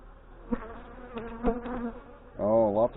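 Honey bees drone steadily at an opened hive that is still trying to swarm, a close, continuous buzz with a louder harmonic whine toward the end and brief knocks of handling.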